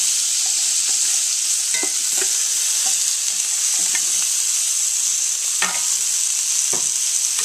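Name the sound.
pimento cheese burger sizzling in pan, removed with tongs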